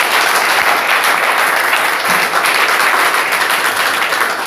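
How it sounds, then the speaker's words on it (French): Loud, continuous applause from an audience at a church gathering, a dense wash of many hands clapping that holds steady for several seconds without a break. "Est-ce qu'on peut lui donner les acclamations?"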